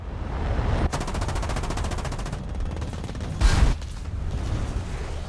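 Aircraft cannon fire from a Vietnam-era dogfight rattles out as a rapid, continuous burst of shots over a loud, dense roar. One heavier blast punches through partway, and the firing goes on with no talk.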